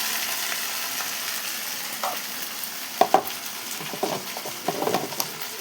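A green chilli and potato fry stirred in a pan, giving a steady sizzle with scraping clinks of a spoon against the pan that grow busier toward the end, with no talking.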